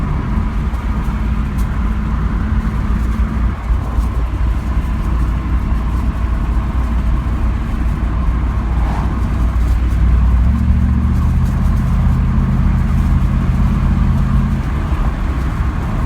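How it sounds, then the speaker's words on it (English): A 1997 Chevrolet Camaro Z/28 with a rebuilt V8, heard from inside while driving: a steady, deep exhaust rumble that runs continuously under road and cabin noise, with no talking. "If you're wearing earphones, you could probably hear the rumble of that V8."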